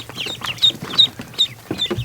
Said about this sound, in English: That's a mess of little ducklings, right?